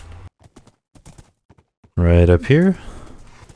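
Horse hooves clip-clopping in Minecraft, a sparse run of light, hollow knocks at walking pace, followed by someone speaking briefly over them.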